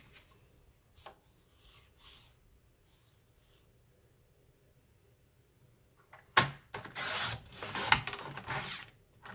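A sheet of craft paper is cut to 13.5 by 20 cm, heard as a few soft handling rustles and then a loud burst of close scraping and slicing strokes near the end.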